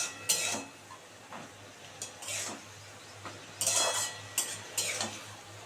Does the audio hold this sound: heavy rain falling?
no